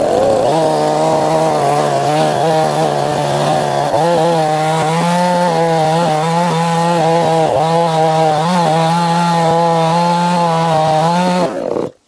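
A dull chainsaw running loud and close, its whining engine holding steady as it cuts through a tree root for bowl blanks, then cutting off abruptly at the end.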